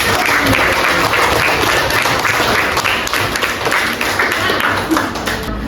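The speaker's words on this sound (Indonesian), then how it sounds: "tepuk tangan buat kalian" A class of students applauds in a school classroom, lively close clapping that stays strong throughout, with a few louder individual claps standing out and tapering slightly at the end.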